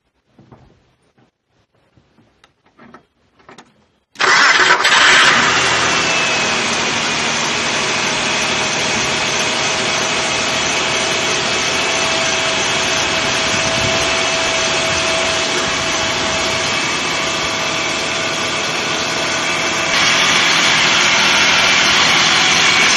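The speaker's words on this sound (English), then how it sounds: "Now let's start the engine and see the idle quality" A cold Nissan engine with a throttle position sensor issue cranks and catches after a few faint clicks, then holds a loud, steady high idle with a broadband roar, recorded close.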